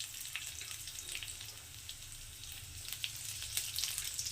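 Cumin seeds and chopped dried chilli sizzle steadily in hot oil, a continuous soft crackling hiss with faint pops, fairly quiet and heard alone.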